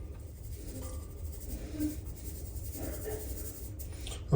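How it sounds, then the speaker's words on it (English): Flour is sifted through a metal strainer in a kitchen, giving a soft continuous scratchy rustle with faint tapping, quiet and close. "let's go ahead and sift this flour through"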